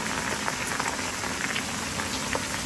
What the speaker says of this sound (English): Y'all can see it's raining, but we still getting at it.